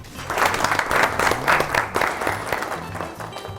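A television morning-show studio audience claps in a dense, steady burst of applause for a stage guest, holding at an even level throughout.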